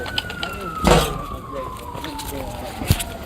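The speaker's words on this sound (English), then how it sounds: "that sounds like an ambulance" An ambulance siren in a city street during a Seattle protest, a long slowly falling wail in the distance under talk, with a couple of sharp bumps and knocks nearby.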